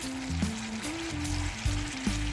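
Peppers go into a pan of onions frying in hot oil, giving a steady, close sizzle with soft stirring bumps and scrapes throughout.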